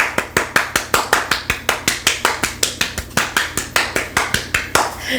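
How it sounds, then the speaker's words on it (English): A single person's hand claps, loud and close, in a steady evenly spaced rhythm of about five per second, given as applause for contest winners on a TV talk show. "Let's give our winners a round of applause."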